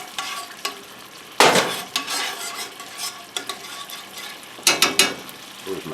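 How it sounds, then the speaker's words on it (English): Steak Diane sauce stirred in a cast iron pan over the heat: a low sizzle with irregular scraping strokes and two louder bursts of clatter, close by, with no voices. "Now we'll add our sauce. Stir that around."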